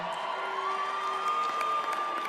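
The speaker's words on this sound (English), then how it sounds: "Well, you hear people cheer." A crowd at a Tom Brady roast cheers and whoops in one continuous, full roar that holds steady throughout.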